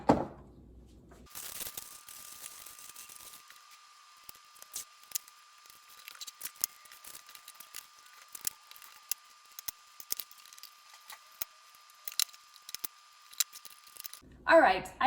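Paper and painter's tape being applied to a wooden box before staining: close, intermittent crinkles, tape tears and light taps spread across a quiet background.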